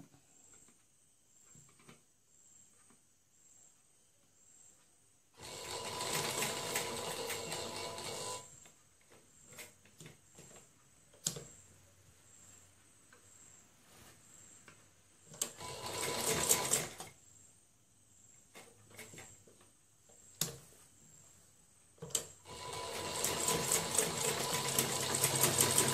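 A sewing machine stitches a saree blouse lining in several fast, whirring bursts of a few seconds each, separated by quiet pauses with faint clicks and handling noises.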